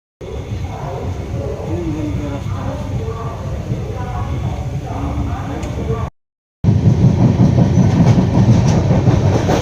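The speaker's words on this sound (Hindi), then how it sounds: "देखिए ट्रेन खुल चुका है।" A departing train rolls on the rails with a steady rumble and rhythmic clatter, heard from on board. A voice talks over the opening seconds, a brief dropout follows, and the noise then returns louder.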